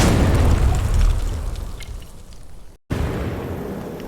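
Gunfire in a video game lands as a heavy, loud boom that decays over about two seconds, cuts out briefly, then resumes with a rumbling tail.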